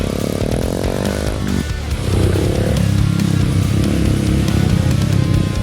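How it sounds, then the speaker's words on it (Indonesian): Trail motorcycle riding down into the Kawah Wurung crater, its engine loud and close, climbing in pitch as it revs and then holding a steady throbbing drone. "aku jadi dikasih kesempatan untuk naik motor trail ke bawah"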